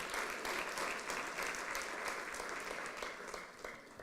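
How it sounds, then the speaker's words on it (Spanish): Sustained applause from a church congregation during a bilingual Spanish-English service, a steady dense wash of clapping that holds for about four seconds at moderate level, with no voices over it. "Let's give him a round of applause."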